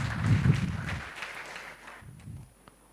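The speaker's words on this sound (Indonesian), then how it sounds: "Berikan tepuk tangan meriah buat Tuhan kita Saudara." Church congregation clapping during an Indonesian online worship service, a dense burst of applause that is loudest early, then fades and thins out toward the end.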